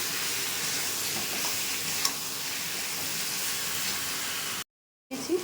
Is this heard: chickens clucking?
no